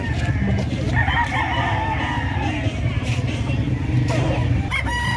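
Several roosters crow and chickens cluck amid a crowded livestock market in San Carlos City, Pangasinan, the crows overlapping in a steady din with voices murmuring in the background.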